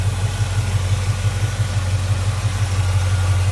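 A 1954 Chevrolet 3100 pickup street rod idles smoothly on a 4-barrel carburetor with electric choke and an Edelbrock intake manifold, a steady, even low rumble with no voices.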